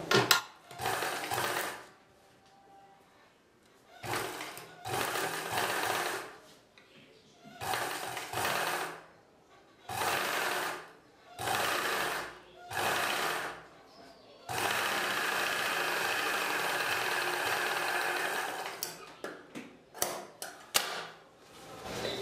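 Sewing machine stitching the cross piece on a dress front neck, running in repeated bursts of rapid whirring separated by pauses, ending in one long continuous run before a few short stops.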